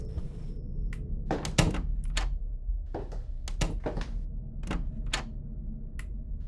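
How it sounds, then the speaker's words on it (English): Several wooden doors thud and knock shut inside a creepy horror game house, a series of sharp separate impacts with a short gap between each, heard over a low steady background hum. "I hear doors."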